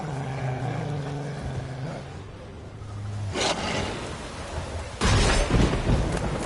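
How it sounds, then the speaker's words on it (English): A thunderstorm in the Witcher 3 game: low rumbling with rain, then two sharp, loud thunder cracks bursting in partway through and near the end, each rolling into a broad noisy roar. "Storm, damn it."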